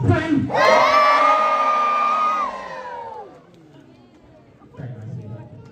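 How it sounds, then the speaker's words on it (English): A safari park audience lets out a massive, loud cheer of many voices that rises sharply, holds for about three seconds, then cuts off into quieter murmuring, with a brief burst of voices near the end. "Massive cheer on 3 then"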